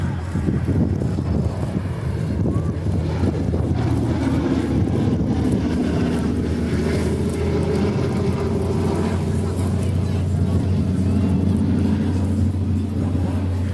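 A B-17G bomber, Sally B, drones through a solo airshow display with a steady, loud rumble mixed with wind buffeting, while a commentator talks over it.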